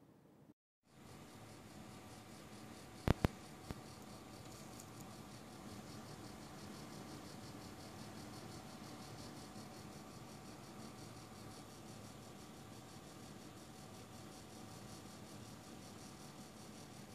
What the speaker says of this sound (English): the Toxic card making the bad rattling sound once again in the Unigine Valley benchmark